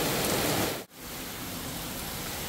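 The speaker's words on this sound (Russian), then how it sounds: "Обожаю такой дождик." Heavy summer rain falls outside in a steady, dense hiss, broken by one short drop in level and then continuing evenly.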